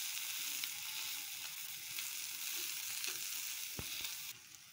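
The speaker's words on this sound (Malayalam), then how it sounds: "നന്നായി മുരിഞ്ഞു വരാൻ വേണ്ടിയാണ് ഒന്ന് ഇടയ്ക്ക് അങ്ങോട്ടും ഇങ്ങോട്ടും ഇളക്കുക" Egg masala for a sandwich fries and gets stirred in a pan, making a soft continuous sizzle with occasional spatula scrapes, quiet and without voices.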